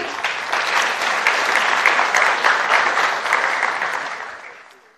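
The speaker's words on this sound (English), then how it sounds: "Could we have a huge round of applause, ladies and gentlemen?" Audience applause at the India Digital Open Summit, a dense, steady clapping from a large crowd that holds for several seconds and then fades away toward the end.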